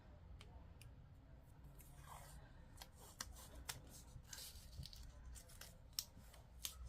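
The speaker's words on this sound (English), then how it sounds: "I think what I'm going to do is just run some washi tape along the bottom here" Washi tape rips off the roll and is pressed down on a large paper tab cluster, with quiet crinkly tearing and a few sharp little snaps over a low background hum.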